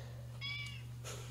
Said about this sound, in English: Sorry for our kitty disruption.